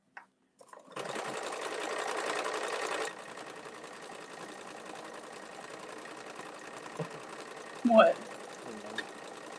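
A domestic sewing machine runs in a steady, moderately loud burst of stitching on a Hemingway bag for about two seconds, then a quieter mechanical hum continues beneath a brief spoken word and a short thump.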